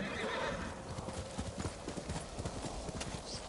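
A horse in Ghost of Tsushima gallops with quick, rhythmic hoofbeats and lets out a loud whinny near the start, the clip-clop continuing steadily close by.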